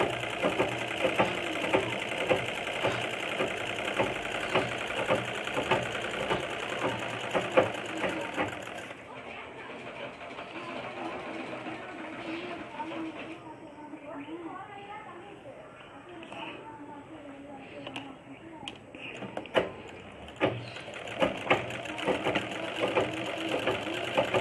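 A sewing machine stitches a full-length chudithar sleeve, running in a steady close whirring drone that shifts and eases partway through, with brief pauses and clicks near the end and a voice talking over it.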